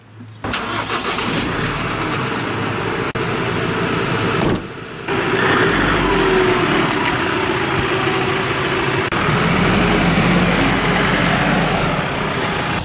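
A milk collection truck's engine turns over and settles into a steady, loud running drone close by, with a brief dip partway through before it carries on evenly.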